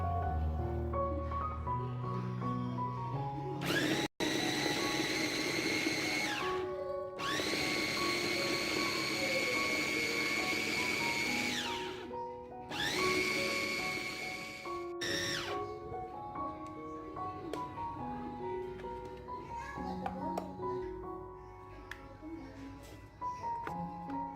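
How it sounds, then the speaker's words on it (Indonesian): An electric food chopper whirs through a frozen-food mixture seasoned with oyster sauce, running in three bursts of a few seconds each over a steady bed of background music. "Kemudian ini dicoper hingga halus dan tercampur rata."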